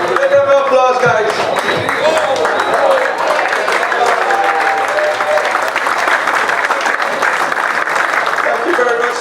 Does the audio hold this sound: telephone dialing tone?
no